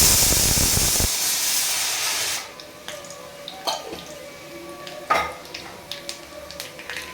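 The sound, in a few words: oil poured into hot pan with mustard seeds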